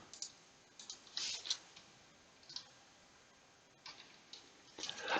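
Keys tap on a computer keyboard in short irregular bursts of light clicks, faint and close, with quiet gaps between the runs.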